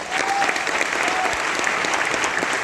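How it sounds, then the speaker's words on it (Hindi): Steady, full audience applause at a business plan presentation, dense and continuous throughout with no talking over it. "इसके लिए एक बार जोरदार ताली"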